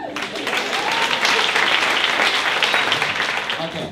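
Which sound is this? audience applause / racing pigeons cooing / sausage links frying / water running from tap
audience applause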